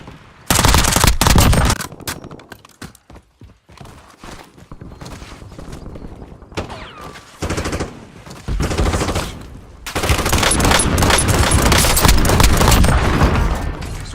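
Heavy automatic gunfire in Call of Duty: Warzone comes in loud, dense bursts at the start and again near the end, with quieter stretches of footsteps and gear handling between them.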